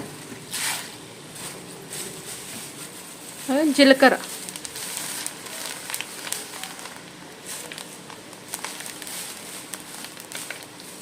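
Dried red chillies fry in hot oil for a mango pickle tempering, a soft steady sizzle with occasional crackles, while a voice speaks briefly in the middle.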